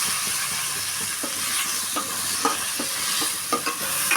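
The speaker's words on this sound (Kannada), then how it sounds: "ಪುದೀನ ಪೇಸ್ಟ್ ಹಾಕೊಂಡಿದ್ದಕ್ಕೆ ಸ್ವಲ್ಪ ಚೆನ್ನಾಗಿ ರೋಸ್ಟ್ ಮಾಡಬೇಕು" Mint paste roasting in a pan for a masala puffed-rice dish: a continuous loud sizzle and frying hiss with a scraping spoon stirring at an uneven rhythm and no voices.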